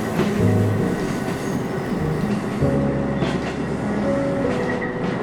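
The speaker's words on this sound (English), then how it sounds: "right now the train is arriving at the Godo Station" A Watarase Keikoku Railway train pulls into Godo Station beside the Watarase River, with a steady loud rumble of wheels on rails, rhythmic clacking and a shifting engine drone throughout, no voices.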